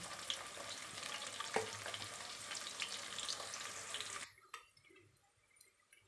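Chopped green chillies and onions with methi sizzle and crackle in a hot pan, a steady bright frying hiss with occasional stirring clinks that drops off sharply toward the end, leaving faint kitchen noise.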